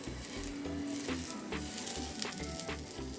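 A paneer-stuffed mini parotta frying in oil on a hot dosa pan, a steady close sizzle with a low rhythmic hum underneath and a few soft clicks, no voices.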